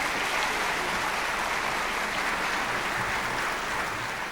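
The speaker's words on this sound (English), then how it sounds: "big round of applause for them" Applause from a crowd at the WATA 2019 event honours beauty and hairdressing students of Taylor Weir International School of Hairdressing, a steady, moderately loud roar of many hands that holds evenly throughout.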